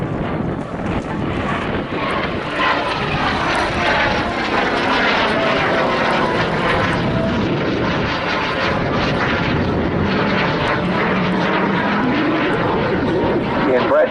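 A military jet, a Mark 82 displayed at the Southport Air Show, roars steadily overhead at an outdoor air display, a broad continuous engine rush with some wind noise while a commentator speaks over it.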